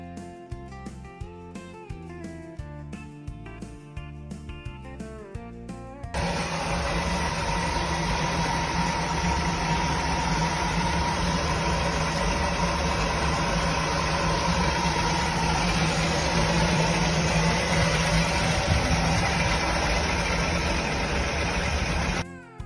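A classic car's original inline-six engine idles in a steady, even rumble that runs loud and close for most of the stretch, after a few seconds of a different, patterned sound at the start.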